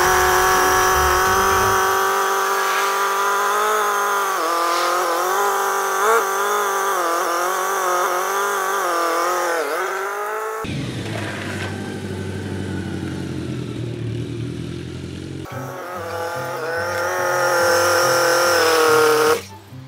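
A BMW K1200 motorcycle on a test ride after its servo-assisted ABS brake unit was removed, engine droning loud and steady throughout with rising and falling revs as it shifts through gears, no voices.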